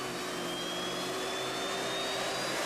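A Lockheed F-117 full-size test plane on its first flight roars with a steady jet engine whine, a loud continuous broadband rush with a slowly rising tone.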